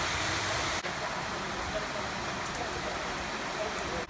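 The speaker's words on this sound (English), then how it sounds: "It's raining today, so it's not very nice." Heavy rain pouring down outdoors, a dense, steady hiss filling the scene with no break, close and loud, with a couple of faint clicks.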